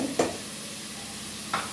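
Onions frying in a pan, a continuous soft sizzle with a couple of brief stirring scrapes, close and fairly quiet, with no voices.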